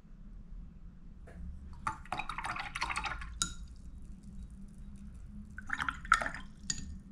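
A watercolour brush is swished and tapped in a jar of rinse water. It gives quiet, intermittent bursts of splashing and light clinks of glass against a near-silent background.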